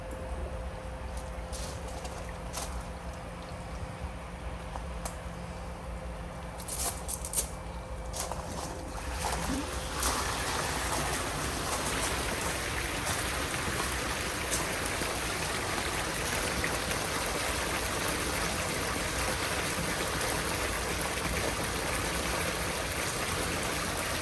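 Continuous rushing, bubbling water from two Evolution Aqua Tempest pond filters flows steadily, growing louder and fuller after a few seconds, with a faint hum underneath and no voices.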